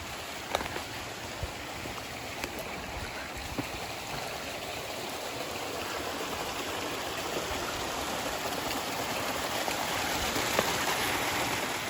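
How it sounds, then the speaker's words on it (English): A small waterfall cascades down the side of a hill along the Gunpowder River railroad trail, giving a soft, steady hiss of trickling water heard from a distance. The flow stays faint and even, with a few light clicks. "So here's a small waterfall up here cascading down"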